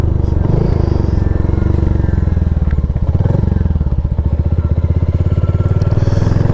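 A Royal Enfield Hunter motorcycle engine rumbles loud and close, its low throbbing pulse steady throughout as the bike rides along.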